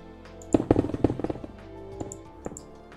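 Explosions in the Minecraft modpack Project Ozone 3: a cluster of sharp, booming blasts in quick succession early on, then a couple of softer isolated pops later, all fairly close and with no talk over them.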